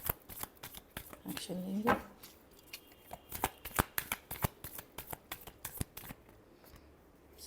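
Tarot cards are shuffled close by in a brisk riffle with a run of crisp flicks and taps while someone talks over them.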